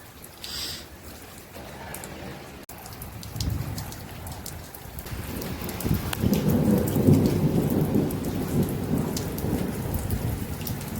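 Steady rain on surfaces during a desert thunderstorm, with rolling thunder building and rumbling loudly in the second half and a faint voice briefly in the background.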